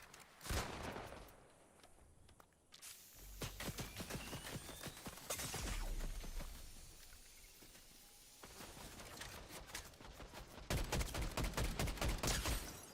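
Bursts of gunfire in a Fortnite match, rapid rattling volleys and single cracks arriving in clusters with quiet gaps between them, moderately loud and close.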